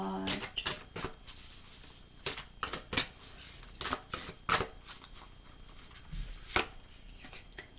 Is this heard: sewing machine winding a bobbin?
no